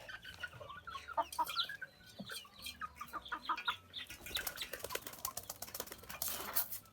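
Chickens clucking in a busy chorus, with a black rooster's higher calls mixed in, steady and fairly close, no talking.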